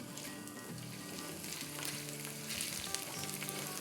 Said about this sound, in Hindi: चलें इसको ज़रा सा सौटे करते हैं